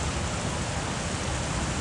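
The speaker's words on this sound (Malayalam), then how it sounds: "നല്ല മഴയും കാറ്റും കേട്ടോ" Heavy rain and wind lash Vizhinjam beach on the coast, a dense, loud, unbroken roar of downpour without any voices.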